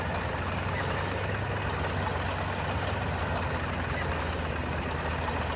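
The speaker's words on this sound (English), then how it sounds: "I'm just exploring the map in this tracked truck." A tracked Vityaz truck idles in the Spintires MudRunner video game with a constant, low, droning engine rumble. The sound stays steady throughout, with no talk over it.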